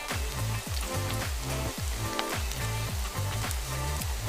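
Onion pakoras frying one at a time in hot oil, a steady bubbling sizzle with a regular crackling pulse, moderately loud and close, with no voices.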